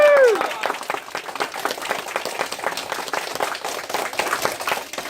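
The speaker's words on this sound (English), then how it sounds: "Give a round of applause." Students and families at an elementary school presentation on the American Revolution break into close, brisk clapping right after a short spoken word, the scattered hand claps continuing steadily at moderate loudness.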